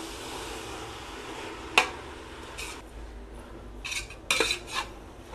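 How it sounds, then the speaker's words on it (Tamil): A spoon stirs mint and coriander leaves in a pot for chicken biryani, giving a few sparse metal clinks and soft scrapes up close over a quiet background hiss. "நல்லா மிக்ஸ் பண்ணி விடுங்க."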